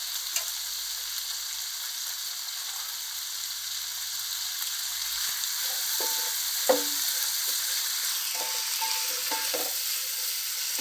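Vegetables and bay leaf frying in a pan for Telugu-style vegetable pulao, a steady even sizzle throughout with a few light stirring knocks near the end, close and clear, no voices.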